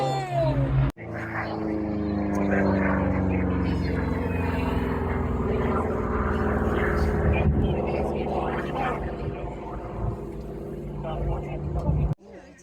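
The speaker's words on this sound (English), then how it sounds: "First very loud jets now." A loud jet aircraft roars past at the 2025 Cosford airshow, with a powerful, rushing roar whose pitch slides downward as it passes. It starts abruptly, fills most of the clip, and fades near the end under faint voices.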